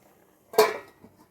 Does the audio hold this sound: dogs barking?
no